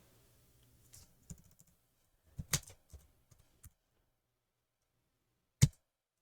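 Chess moves being typed on a computer keyboard: a few quiet, scattered key taps in short bursts, then a lone sharper keystroke after a pause, close and alone with no speech.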